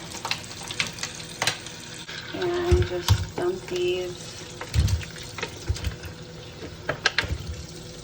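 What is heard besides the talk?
running cold water to rinse strawberries and blueberries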